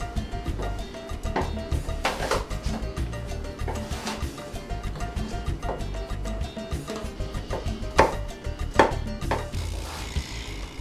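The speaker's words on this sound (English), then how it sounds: "Chop half an apple." A knife chops half an apple fine on a board, giving a steady run of close, crisp taps with a few sharper knocks, continuing throughout.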